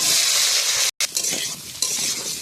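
Cumin seeds and dried red chillies fry in hot oil with a loud, bright, continuous sizzle, interrupted by a short gap and a few light stirring clinks.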